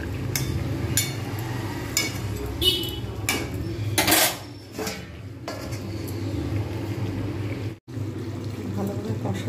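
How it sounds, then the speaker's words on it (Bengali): Potatoes with whole garam masala and a little sugar being stirred in a pot, with scraping and clattering of a spoon against metal over a steady sizzle, plus a few brief louder knocks. "আর এবার আলুগুলো সব দিয়ে দিলাম। আমাকে ঢাকা দিয়ে এগুলো কষতে থাকবো।"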